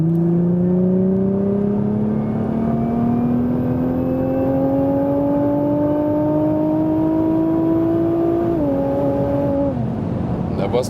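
Nissan GT-R facelift with 570 hp pulling hard in fourth gear on the Autobahn, a loud steady engine drone climbing in pitch for about eight seconds, then dropping with a shift before settling, with road and wind roar throughout.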